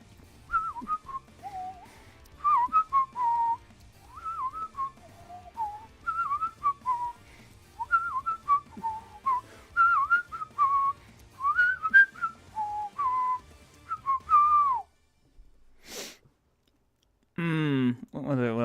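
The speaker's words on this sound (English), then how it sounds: "I know you're lying about not picking up my whistling." Person whistling a stream of short melodic phrases with rising and falling pitch, fairly close and clear, broken by brief pauses, during a game development stream; a couple of other electronic sounds follow near the end.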